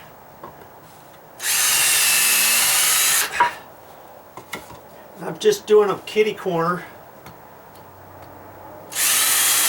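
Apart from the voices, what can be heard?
cordless drill pre-drilling screw holes in wood deck column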